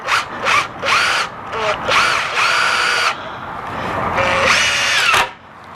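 A power drill drives screws into the boards of a raised garden bed, with repeated short whirring bursts and pauses, then one longer run. It sounds close and loud.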